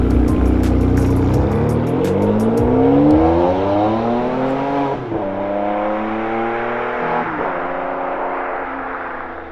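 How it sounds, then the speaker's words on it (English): A Ferrari 599 GTB's V12 engine revs loud and close, its pitch climbing steadily to a piercing wail, dipping briefly, then rising again in a sustained, continuous run. "It is Enzo's motor talking"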